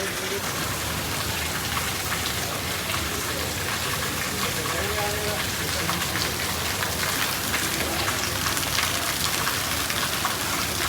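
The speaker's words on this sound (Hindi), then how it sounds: "तेज़ बारिश हो रही है।" Heavy rain falls steadily in a dense, even hiss that never lets up, loud and close throughout.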